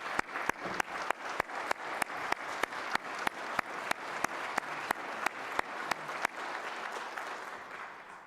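Sparse, rhythmic applause at a 2022 state budget address by the Kentucky governor, a small audience clapping in steady separate claps for several seconds before it fades.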